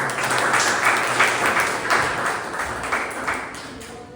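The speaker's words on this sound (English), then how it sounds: "Please give a round of applause to Toastmasters." A round of applause at a Toastmasters club meeting, steady clapping from a modest group that gradually thins out toward the end.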